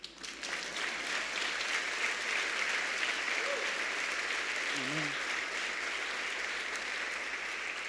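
A church congregation applauding in a steady, full wash of clapping that lasts throughout, with a voice briefly speaking over it.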